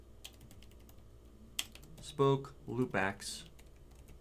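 Quick keystrokes on a computer keyboard, typing a command-line entry, come in scattered light taps, quiet and close, while someone speaks briefly over the end.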